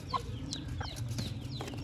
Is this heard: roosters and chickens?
yes